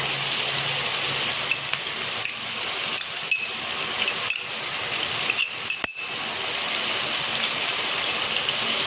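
Chicken, vegetables and ketchup fry over a medium flame in a pan, a loud dense sizzle that runs on with brief dips and a few clinks of a spoon stirring, no talk.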